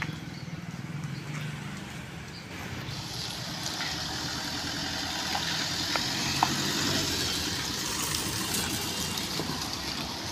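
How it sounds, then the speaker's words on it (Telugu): A 2015 Tata Zest top-end diesel car engine starts for a trial, the sound swelling a few seconds in to a steady, rough idle that holds at moderate loudness. "ఒకసారి బండి ట్రైల్ వేసి చూపిస్తా చూడండి."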